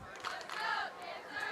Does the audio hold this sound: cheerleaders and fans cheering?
yes